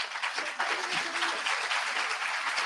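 An audience at a talk on living with schizophrenia applauds steadily, a dense wash of clapping that stays full and even from start to finish.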